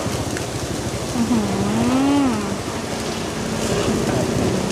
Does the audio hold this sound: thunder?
yes